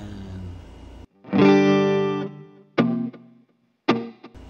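A Cubebaby multi-effects unit plays a distorted guitar preset: a long sustained chord with a bright, buzzing, harmonically rich tone, then two shorter stabbed chords that ring and cut off, with brief silence between them.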